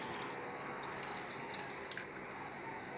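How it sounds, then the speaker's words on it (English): Water poured into a bowl of raw chicken being prepared for brown stew chicken, a steady trickling, splashing flow from a tap running throughout at moderate level. "I add water to the bowl."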